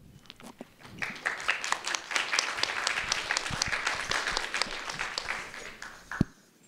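Applause from a game developer conference audience welcomes a games company CEO onto the stage, starting with scattered claps that build into a full round, then tapering off with a final loud clap near the end.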